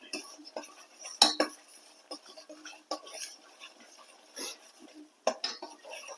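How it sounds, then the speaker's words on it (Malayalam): A spoon scrapes and clinks against a pot of homemade ghee on a gas stove, giving irregular metallic knocks and scrapes with short quiet gaps between them. "നന്നായി ഇളക്കി കൊടുക്കാം"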